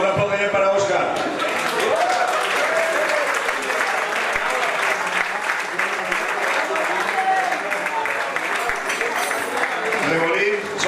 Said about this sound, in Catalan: un aplaudiment para Óscar.